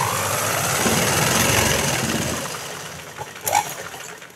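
A sewing machine runs steadily as it stitches fabric, its hum fading out after about two seconds and leaving a few faint clicks.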